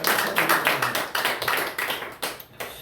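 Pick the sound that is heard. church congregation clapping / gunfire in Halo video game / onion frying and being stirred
church congregation clapping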